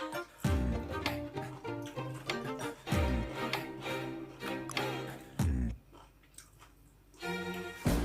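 Someone eats stir-fried hop shoots in oyster sauce by hand, with close, wet chewing and smacking in irregular bursts, brief pauses, and a few louder bites.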